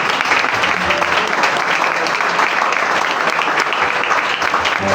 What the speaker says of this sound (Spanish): Den el mejor de los aplausos a Dios.